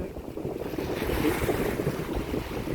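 Sea waves wash against a stone breakwater at Saphan Daeng, a steady rushing surge with wind buffeting the microphone and no talking.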